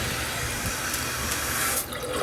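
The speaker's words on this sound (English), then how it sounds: "Now this water is just going to keep going." Water pours steadily into a toilet tank with the flapper taken out, a loud continuous rushing and splashing close by that keeps running throughout, with no voices.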